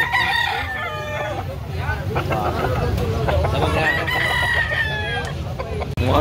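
Several roosters crow repeatedly over a noisy, busy background in Carbon, Cebu City, with clucking chickens and murmuring voices mixed in close by.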